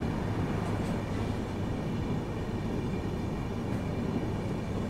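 A train runs near Sevoke station as a steady, continuous rumble with no clear breaks, heavy rail noise filling the whole stretch without any voices.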